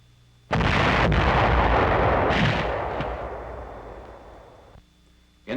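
A single heavy blast from a demolition charge during World War II engineer training booms suddenly and loudly, then rolls into a long rumbling decay that fades over several seconds.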